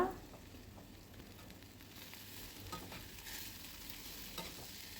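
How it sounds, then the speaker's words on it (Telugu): Chopped cluster beans frying with onion, turmeric and salt in a pan: a soft continuous sizzle with faint stirring scrapes, fairly quiet and without speech. "ఈ గోరుచిక్కుడు ముక్కలు కూడా వేసుకొని కొద్దిగా పసుపు సాల్ట్ వేసుకొని వేయించుకోవాలన్నమాట"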